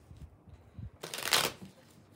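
A tarot deck is shuffled close by in one quick riffle, a loud burst of crisp fluttering snaps after a few soft handling taps.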